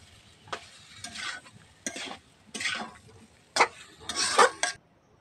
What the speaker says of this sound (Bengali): দিয়ে নাড়াচাড়া দিয়ে নেবো